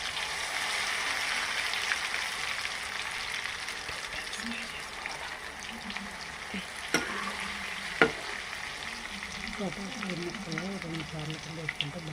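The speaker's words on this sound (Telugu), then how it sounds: "ఆయిల్ బాగా హీట్ అయింది. ఇప్పుడు మనం ఉడకపెట్టుకున్న ముక్కల్ని అయితే వేసుకోవాలి." Boiled potato pieces drop into hot oil and fry for French fries, a continuous sizzle with a few sharp clatters and rising bubbling toward the end, while a voice talks over it.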